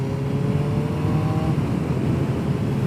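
A motorcycle accelerates away on an open road, heard from the rider's position as a steady, loud engine drone with rising tonal harmonics early on and continuous wind rumble throughout.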